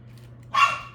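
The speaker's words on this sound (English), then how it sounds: "sorry about the dogs. They drive me nuts sometimes." A dog named Bella barks once indoors while guarding a door, a single sharp, close bark rising out of a quiet room with a low steady hum.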